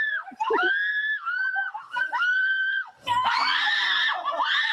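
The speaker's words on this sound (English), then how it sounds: "It's like as soon as she goes around the corner, she screams." A woman screams shrilly in a haunted house attraction, several piercing, wavering cries in quick succession, close and loud with little else around them.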